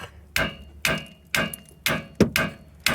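Hammer whacking a loosened bolt on a Chevy suspension: six sharp, close metallic strikes at a steady, roughly half-second rhythm, loud and alone without speech.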